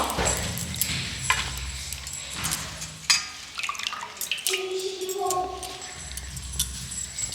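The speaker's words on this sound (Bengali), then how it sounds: "জল ঝরিয়ে একদম ছেঁকে আমি এই গোলাপের পাপড়িগুলোকে আবারও তুলে নেব।" Water drains and drips from freshly washed rose petals in a kitchen sink, with scattered splashes, trickles and a few light clinks of a strainer or bowl at close range.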